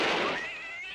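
A single drawn-out meow, close and fairly loud, rising then trailing off, voiced by a person imitating a cat.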